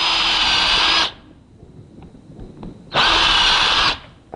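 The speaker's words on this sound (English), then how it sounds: "Line it up with the drill bit off, that way you don't wobble out the pegboard hole." A power drill bores holes through a bookshelf side panel using a pegboard as a guide. It makes two loud, close, steady whines about a second long each, separated by a quiet pause with faint handling clicks.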